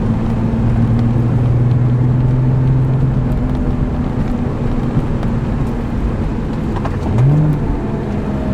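Porsche 911 Turbo Cabriolet accelerating hard through S-turns on a winding road, a loud steady engine drone with wind rush, a falling pitch sweep around midway and a brief rising surge near the end.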